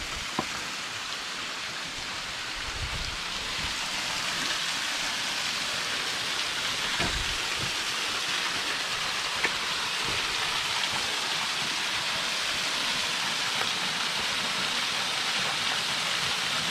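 Waterfall at Devil's Hollow in Cane Creek Canyon, Alabama, a steady full roar of falling water from close by, continuous and broadband, alone with no talk.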